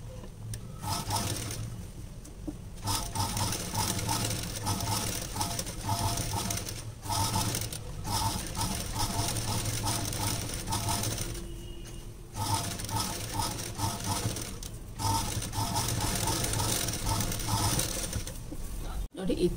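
A sewing machine stitches thread piping onto a lined blouse, running in a steady mechanical whir and clatter with brief stops between runs, close by.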